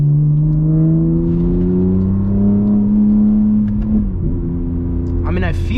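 A BMW G80 M3 driven through corners in MDM mode, its engine note rising and falling steadily up close, with a brief shift near the end.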